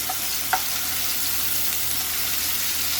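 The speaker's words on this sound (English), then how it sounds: "I'm not going to caramelize this. This is stir fry." Garlic and onion stir frying in a pan for sweet and spicy shrimp fried rice, a continuous close sizzle with a brief clink of a utensil near the start, no voices.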